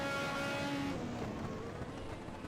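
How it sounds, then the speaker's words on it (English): A 1986 turbocharged Formula 1 car in a racing video game sweeps past with its engine roaring and a turbo whistle, loud at first and then fading as it pulls away. "The one with the turbocharger in front of the engine. It makes the big whistle sound as it goes by."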